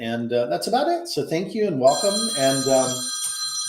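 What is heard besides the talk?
phone alarm ringing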